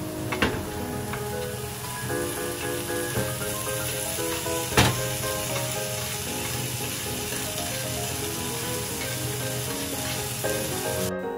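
Bacon and chopped onions fry in a pan for omurice while being stirred, a steady close sizzle with occasional scraping clicks and a faint tonal background throughout.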